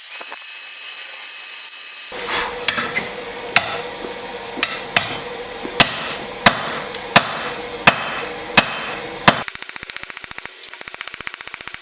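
Hammer blows forging a Damascus steel bolster flat at a lit forge, about ten sharp ringing metallic strikes spaced roughly evenly, followed by a rapid buzzing clatter.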